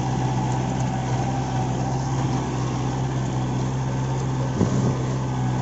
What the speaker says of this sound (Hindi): पूरी जमीन को ले रहा है ट्रैक्टर